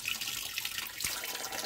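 Meat rinsed under a running kitchen tap, a steady hiss of flowing water filling the whole stretch with a brief splash near the end, no voices.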